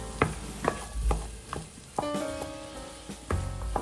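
Mushrooms, paprika and garlic fry in a pan while being mixed, a soft sizzle broken by repeated sharp scrapes and taps of a utensil at an uneven rhythm, close by.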